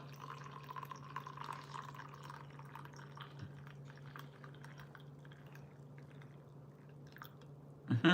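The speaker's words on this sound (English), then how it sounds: "I want them to hear my pour, my tea pour" English breakfast tea with rose poured into a cup, a faint, steady liquid trickle running over a constant low hum, ending with a short clunk.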